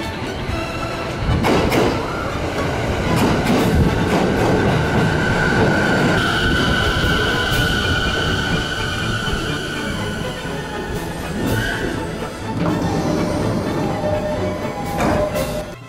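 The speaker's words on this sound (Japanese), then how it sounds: "立山駅2番線に立山止まりの209系電車が到着です。" A 209 series electric train rolls into Tateyama Station, motors humming and wheels rumbling, with a sustained brake squeal rising and fading as it slows.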